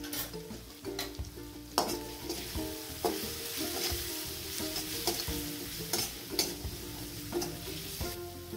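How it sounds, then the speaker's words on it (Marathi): Spice masala with turmeric for vada pav filling is stir-fried in a pan, a continuous sizzle broken by regular metallic clinks and scrapes of a spoon, close and fairly loud. "हा मसाला सगळा आपण परतून घेत आहे, जेणेकरून त्याचा कच्चा वास निघून जाईल"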